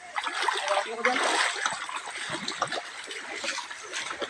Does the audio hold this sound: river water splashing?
yes